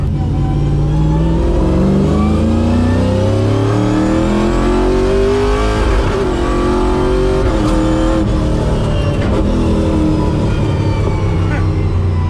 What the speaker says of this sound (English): We'll turn left up here and we'll show them some gear changes.